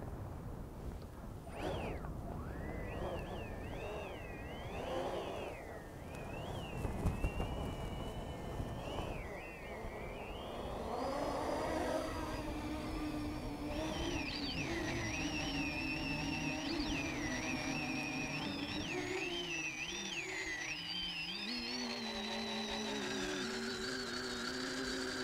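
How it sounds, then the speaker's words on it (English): Nonacopter multirotor RC aircraft on its maiden flight in strong wind: a faint whine of many propellers rising and wavering in pitch as it lifts and hovers, beneath heavy wind buffeting on the microphone. "here's the maiden of the Nonacopter."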